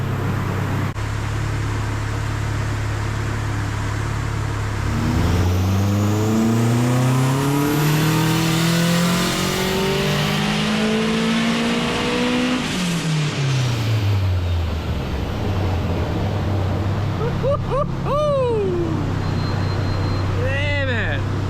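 A turbocharged Honda K24 K-series engine making about 570 horsepower at 30 psi boost revs hard in a car, climbing and falling through loud sweeping pulls with sharp blips near the end, up close.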